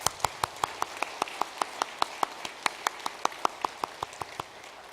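Church congregation applauds itself in encouragement during a Korean sermon: a steady, evenly paced series of sharp, loud claps, close and rhythmic, nearly in unison, lasting throughout.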